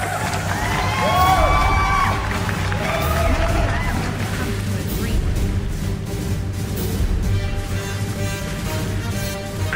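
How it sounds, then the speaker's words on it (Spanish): A loud crowd cheers and applauds, with whistles and whoops rising early over a steady roar of claps and babbling voices that carries on without a break. "démosle un fuerte aplauso."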